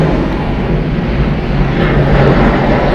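A 33-year-old Delta Airlines Boeing 757-200 arriving at Atlanta Hartsfield-Jackson from Jacksonville gives a loud, steady jet roar with broadband rumble, sustained without a break.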